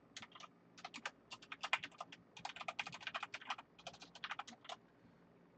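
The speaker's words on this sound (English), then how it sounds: "If you can hear that typing, it's my mechanical keyboard." Rapid clacking keystrokes on a mechanical keyboard, arriving in quick bursts and short runs with brief pauses, crisp and fairly close in a quiet room.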